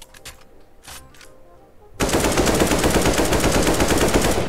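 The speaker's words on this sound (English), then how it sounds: "Just me driving by with a AK. Kapow." AK rifle fire in the video game Anomic: a brief quiet stretch, then a sudden, loud, sustained burst of rapid automatic gunfire that runs unbroken to the end.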